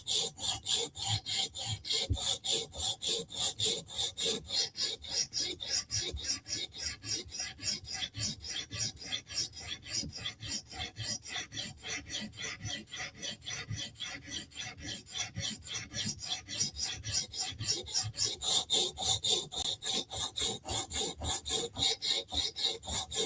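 A Spyderco knife with 15V steel blade is stroked steadily across sharpening stones, producing a dense, regular rasping scrape repeated rapidly throughout, close and fairly loud with no talking.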